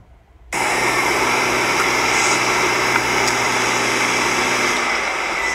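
A car engine idles steadily and close by, a constant even hum that starts abruptly after a brief quiet moment and holds without revving.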